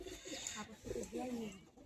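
A Madrasi pigeon gives a soft, low, rolling coo, quiet and close in a short burst.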